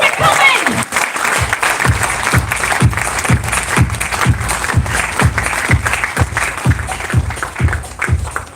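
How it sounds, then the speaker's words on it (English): Sustained applause from a large audience at a talk, with steady rhythmic clapping and a thumping beat underneath, filling the space continuously. "So can I have a huge round of applause, ladies and gentlemen?"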